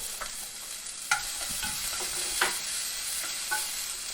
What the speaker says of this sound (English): I'm going to throw some onions in here, get those started.